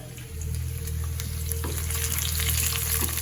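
Ginger, cashews and curry leaves frying in oil in a pan for millet pongal, a close, steady sizzle that swells after a moment and keeps crackling with scattered pops.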